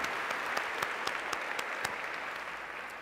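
A church congregation gives a steady round of applause, with dense clapping heard at a moderate distance and a few sharper claps standing out, and no voices over it.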